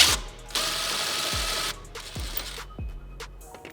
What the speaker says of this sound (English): So I'm gonna try the impact first, and we're gonna see if we can get this loose.